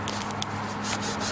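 A fingertip rubs across the paint of a Mercedes-Benz W111 280SE 3.5 coupe, making a soft, close, continuous squeaky friction with a small tap partway through.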